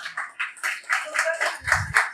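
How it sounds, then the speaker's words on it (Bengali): Scattered, uneven clapping from a small gathering at a Holi festival get-together, individual claps audible in bursts with faint voices mixed in. "তারা জোরে হাততালি হোক"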